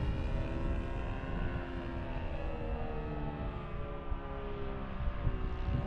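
An 83-inch balsa RC trainer airplane at full throttle, its engine holding a steady, continuous drone with a dense harmonic buzz, loud and unbroken throughout with no voices.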